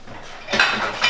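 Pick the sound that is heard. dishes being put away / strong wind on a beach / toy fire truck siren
dishes being put away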